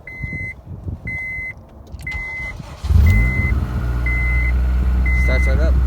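An Acura RSX Type S, a theft-recovery car, cranks and fires up about halfway through after a few chime beeps, then settles into a steady, loud idle rumble close by.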